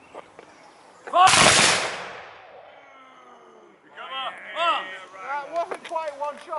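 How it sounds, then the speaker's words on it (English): A firing line of historical reenactors fires a musket volley: one loud, ragged blast of near-simultaneous shots that rings out and decays, followed by people talking and reacting nearby. "If we do a volley right, it should sound like one shot going off."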